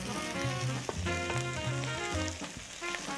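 Garlic sizzles in a hot pan as whole wheat pasta sauce cooks, a steady close frying hiss with crackling spatter while a tonal music bed plays underneath.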